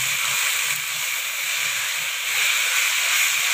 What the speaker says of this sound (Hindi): इसे हम अच्छी तरह से मिक्स करेंगे और इसे 1-2 मिनट भून लेंगे।